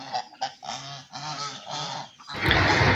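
Domestic ducks calling loudly to their keeper for food, a series of harsh nasal quacks and honks in quick irregular bursts, close by, rising into a dense noisy clamor at the end.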